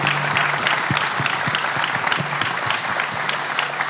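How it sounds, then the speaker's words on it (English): A crowd at a Phoenix Suns NBA All-Star announcement breaks into dense, loud applause, steady clapping filling the space with no speech over it. "Give yourselves a round of applause"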